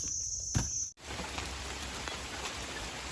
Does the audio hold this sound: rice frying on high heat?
no